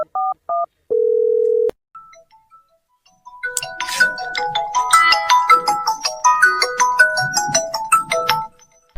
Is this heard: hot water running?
no